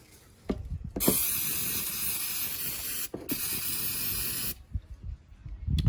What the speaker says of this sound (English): we're gonna clean the area with a little bit of brake clean